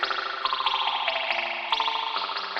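Electric guitar chords through a vintage spring reverb tank, dampened and filtered, washed in dark, muffled reverb, the strums blurring into a soft, filtered wash with a slight boingy shimmer.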